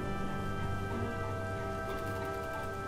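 Steady soft rain hisses throughout a scene in the Wallace and Gromit's Grand Adventure video game, blended with sustained musical tones and no talking.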